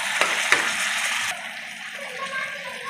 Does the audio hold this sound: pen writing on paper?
no